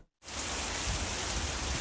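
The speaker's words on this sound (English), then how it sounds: "as a month's worth of rain drenched the area overnight" Heavy rain pours down steadily in a dense, loud wash after a brief silent gap, a storm dropping a month's worth of rain overnight on Kansas City, Missouri, with no voices over it.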